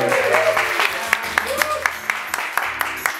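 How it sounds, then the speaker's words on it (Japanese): Scattered hand claps ring out in an uneven patter over a lively room at an event with a DJ, with people talking and music underneath. "拍手。"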